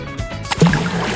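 A phone drops with a short splash into toilet water, a brief watery plop and slosh rising suddenly out of a cartoon scene and trailing off quickly.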